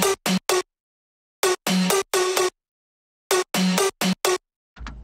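Main synth lead of an electronic track, sharp bright stabs in short rhythmic bursts separated by silent gaps, loud and dry, with no talking.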